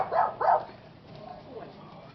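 A dog barks twice in quick succession during a police encounter, two sharp nearby barks followed by quieter muffled background sounds.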